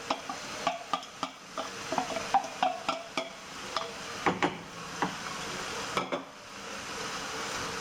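Bell peppers are tipped into a pan and stirred, giving repeated sharp scraping and clattering strokes over a low steady sizzle, with no voices.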